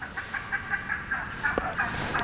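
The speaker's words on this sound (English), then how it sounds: "But turkeys are going crazy." Wild turkeys gobble rapidly in the Illinois woods during a deer hunt, a run of quick repeated gobbling notes at moderate distance with a sharp snap partway through, and no voices.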